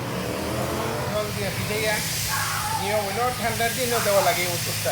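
A garden hose sprays water across lawn grass to soak it on a hot summer midday, making a steady, continuous hiss with a voice talking over it.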